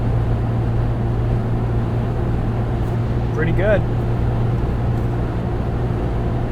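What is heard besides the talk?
2.7L V6 Ford Bronco with MRT axle-back exhaust cruising at 70 mph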